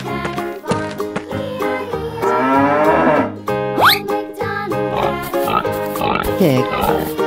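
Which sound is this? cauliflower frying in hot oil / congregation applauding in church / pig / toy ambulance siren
pig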